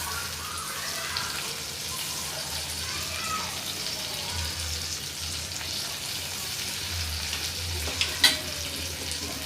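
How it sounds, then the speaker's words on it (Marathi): Spice paste roasting in a pan for crab and prawn curry, a steady low sizzle and scrape throughout, with a sharp clink near the end and faint talk in the background. "हे आपलं वाटण व्यवस्थित भाजलेलं आहे"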